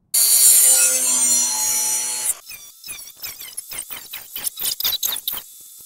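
A tool cuts along a marked line on the sill of an MG TF, giving a loud, steady cutting noise for about two seconds, then a series of quieter, rhythmic scraping strokes close by.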